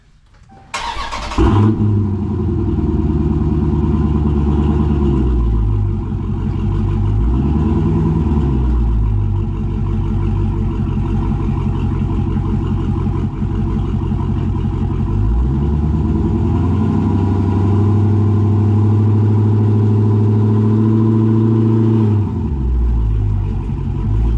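A car engine runs loud and close as the vehicle tries to drive up onto cheap wheel cribs, holding a steady rumble with repeated swells of revving throughout.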